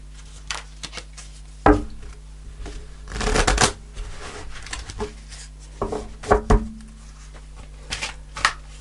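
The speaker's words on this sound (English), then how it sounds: "I'm going to pull a fairy card to finish off the reading." A deck of tarot and fairy oracle cards is shuffled by hand at close range in irregular bursts of riffling, sliding and soft slaps, separated by short quiet gaps, with no talking.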